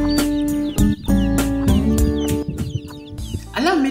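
Local chickens on a large chicken farm cluck loudly and repeatedly, close by, with overlapping calls and a rising squawk near the end.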